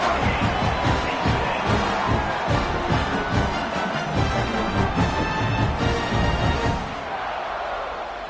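Dense stadium crowd roaring in a college football video game after a Delaware Blue Hens touchdown against UTEP, a sustained loud wall of cheering that eases off near the end.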